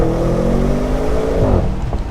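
A 2022 Audi S8 engine accelerates with a steady, loud roar, its pitch climbing before easing off near the end.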